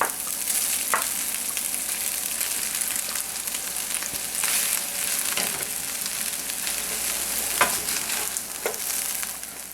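Onions, garlic and chicken sizzle steadily in a cast iron pan, a constant frying hiss broken by occasional scrapes and stirring clatter.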